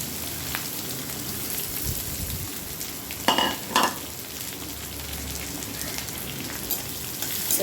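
Steady, dense sizzling of onions frying in a pan, with a couple of brief louder scrapes of stirring partway through; no talking.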